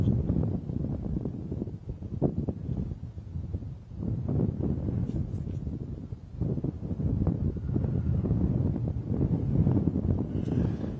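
Gusting wind buffets an outdoor microphone on a sunrise safari drive, a low rumbling roar that swells and dips in repeated gusts throughout.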